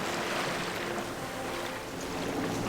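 Small boat motor droning at sea, a low steady hum under wind buffeting the microphone and the wash of waves, heard from the deck of a sailboat.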